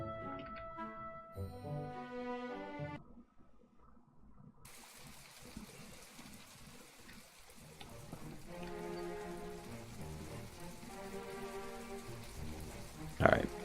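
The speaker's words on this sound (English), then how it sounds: "It's a fantastic raining day." Steady patter of rain falling in the farming game My Time at Portia, a broad hiss running under game music and tones, with a voice talking through part of it.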